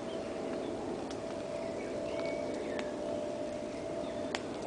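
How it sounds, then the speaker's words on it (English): An evening bird chorus at a wild canoe camp, with faint scattered chirps and calls from a distance over a steady hiss of outdoor background, and no talking. "you should be able to hear this evening chorus of birds."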